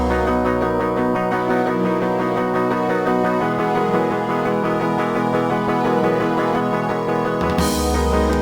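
Instrumental recreation of a song, with a violin line climbing over steady strummed accompaniment, dense and continuous throughout, then a brief bright swell near the end.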